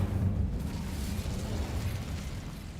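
A fiery burst from the Incendio spell in the video game Hogwarts Legacy roars loud and dense, a rumbling blast of flame sustained for nearly three seconds with no voices.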